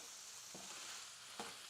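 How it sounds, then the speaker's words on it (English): Pork trimmings fry in a pan to render out their fat, a faint steady sizzle with a couple of soft stirring knocks. "this is the trimmings from the pork. Frying it up to render out the fat."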